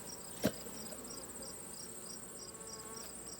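Honeybee drones flying around the hive, a faint, steady buzzing hum with a sharp close knock near the start and high chirping insect sounds repeating in the background.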